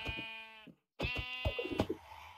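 A Minecraft sheep bleats twice as it is killed, two short nasal calls separated by a brief silence, close and clear with nothing else heard.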